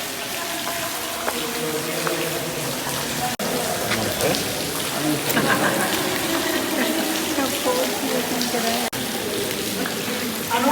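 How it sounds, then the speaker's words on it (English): A waterfall pours straight down into a cenote in Mexico, a steady broadband splashing and hissing that holds throughout, with a voice speaking over it. "There's a waterfall coming straight down, and you can see there just a bunch of fish."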